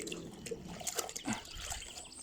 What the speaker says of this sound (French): Donc hop, on rince l'éponge.